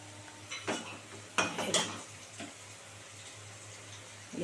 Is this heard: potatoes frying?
yes